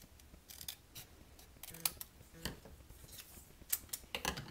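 Scissors cutting a stamped cardstock heart out by hand, with quiet, close snips in uneven clusters of sharp clicks and short pauses, no voices.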